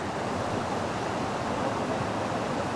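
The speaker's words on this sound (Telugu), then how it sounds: "చూడండి, ఇదే దూద్సాగర్ వాటర్ ఫాల్స్ అనమాట" A constant roaring wash of falling water from Dudhsagar Falls in Goa fills the air, broad and unbroken, with no voices.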